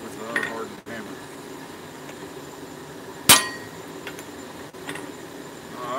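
A single sharp metallic strike of a hardened hammer on another hardened hammer rings out mid-clip, with a couple of softer knocks around it over a steady background hum.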